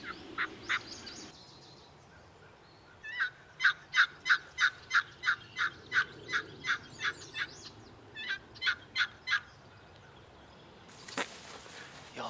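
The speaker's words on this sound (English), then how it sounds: "I heard him gobble again." A wild turkey gobbles in a long rapid series of sharp, rhythmic notes, then again in a shorter burst, fairly distant outdoors with a faint breeze.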